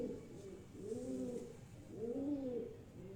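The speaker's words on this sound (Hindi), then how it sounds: "ये अगर आप कबूतर देखें, ये वकार भाई उड़ा हुआ कबूतर है" Domestic pigeons coo close by in two slow, soft, rolling phrases with no voices.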